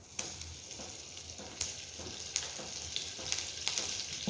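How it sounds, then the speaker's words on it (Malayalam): Home-made ghee heating in a pan crackles with a steady fine sizzle, broken by sharp spitting pops every second or so, close and clear with no one talking. "ഇതിലേക്ക് ഞാൻ ഒന്നര ടേബിൾ സ്പൂണ് നെയ്യ് ഒഴിച്ചു കൊടുത്തിട്ടുണ്ട് നല്ല നെയ്യാണ് ഞാൻ വീട്ടിൽ തന്നെ ഉണ്ടാക്കിയ നെയ്യാണ്"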